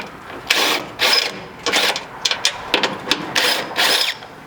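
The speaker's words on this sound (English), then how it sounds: "you can come down here and remove this bracket and 2 screws holding it into the frame." A 12mm socket on a power tool spins out bracket screws from the frame of a third-generation Toyota Sequoia, giving a string of short, loud whirring bursts in an uneven rhythm, close up.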